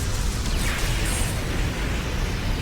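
Dual impact cannons fire in the Super Robot Wars 30 game, producing a dense, continuous roar of heavy explosive booms that fills the whole stretch at steady loudness.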